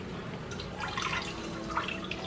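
Water draining from the bottom of a houseplant pot after a thorough watering, soft irregular trickles and drips that stay faint and close, with no talking.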